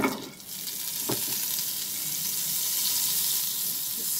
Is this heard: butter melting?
yes